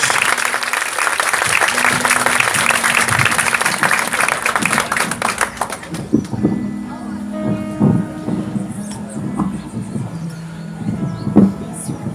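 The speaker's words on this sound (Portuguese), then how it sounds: "Uma salva de palmas calorosa" A church congregation breaks into loud, warm applause at a Catholic service, dense clapping filling the first six seconds before fading into murmurs, a voice and scattered hall noise.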